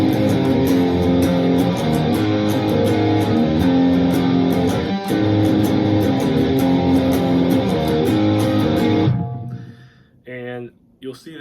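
A distorted electric guitar tuned a half step down plays the intro to a song, a loud, dense, sustained wall of strummed chords that stops near the end as a voice begins talking.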